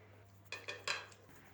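Broiler chicken pieces are mixed by hand with ginger-garlic paste, chopped onion and oil in a bowl, giving a few quiet, short squelching rubs and knocks against the dish over a faint background hum.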